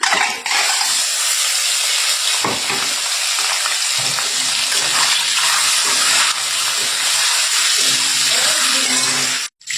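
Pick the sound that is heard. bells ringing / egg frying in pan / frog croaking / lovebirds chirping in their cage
egg frying in pan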